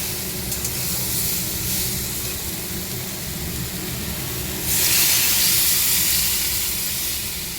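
A loud, steady hiss and sizzle as water hits a hot pan, swelling brighter partway through and continuing without pause; no voices.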